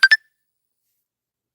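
A phone beeps twice in quick succession, short bright tones close by, then silence.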